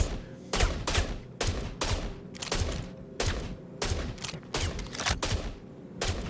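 Heavy gunfire in the video game Star Citizen, loud repeated bursts of shots at a fairly steady rhythm throughout, with no talking over it.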